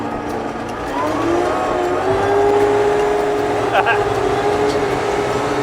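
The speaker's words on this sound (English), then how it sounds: "Power slide. So it can just spin around like on the spot." A Sherp 4x4 amphibious vehicle power sliding and spinning on the spot, its engine droning steadily with a rising whine, close and loud, with faint voices over it.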